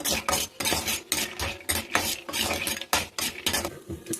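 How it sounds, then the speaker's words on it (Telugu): Peanuts roasting in a pan are stirred with a utensil, giving a steady, close run of dry rattling and scraping strokes against the metal, with a faint sizzle underneath. "ఇప్పుడు పల్లీలు వేపుతానండి."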